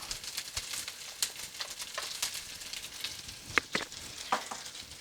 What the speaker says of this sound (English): I'm cooking this on a medium-high right now to get the bacon all going and caramelizing